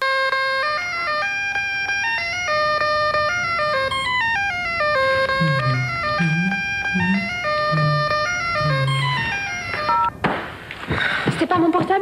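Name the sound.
mobile phone ringtone in a TV advert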